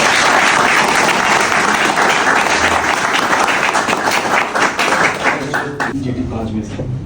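Sustained audience applause for restaurant staff at a steak house appreciation event, loud dense clapping filling the room and slowly thinning toward the end.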